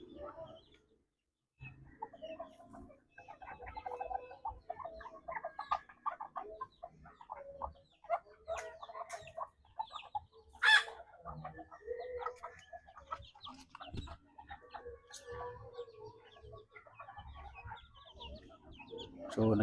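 Bantam and Livorno chickens cluck and chatter at close range in a steady scatter of short calls, with one louder squawk midway and someone talking quietly at times.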